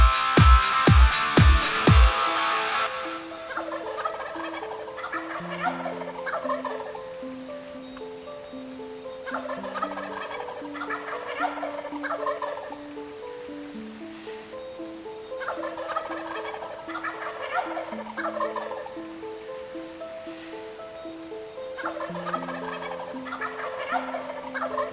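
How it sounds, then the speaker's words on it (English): Repeated bursts of wild turkey gobbling from birds roosting in a tree at a distance on a Kansas morning, several rounds spaced every few seconds, with quieter bird calls and a low steady background between them. "the turkeys are just gobbling their heads off in the tree"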